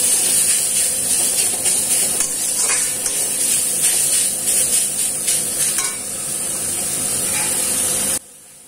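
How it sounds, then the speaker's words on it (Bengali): A kitchen chimney exhaust hood runs with a loud, steady broadband roar and hiss close by, mixed with frying sizzle from a pan, until it drops sharply quieter near the end. "এদিকে চিমনি চললে কথা কিছু শোনা যায় না।"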